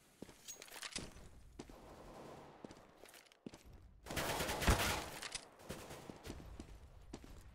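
Gunfire in a competitive tactical shooter match, shots fired into a smoke grenade cloud: a few sharp isolated reports, then a dense burst of rapid fire in the middle, mixed with footsteps and game ambience.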